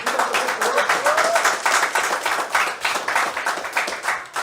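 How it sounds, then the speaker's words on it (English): Audience applause in a classroom setting, a steady wash of many hands clapping throughout, fairly loud and dense, with cheering voices mixed in. "Please give her a round of applause."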